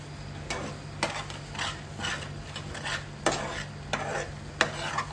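Cooked wood apple being stirred and sautéed in a pan, a steady scraping and stirring with soft sizzling underneath, punctuated by several sharper clinks of a utensil against the pan over a constant low hum.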